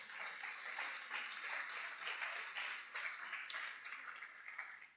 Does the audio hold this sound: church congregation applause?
yes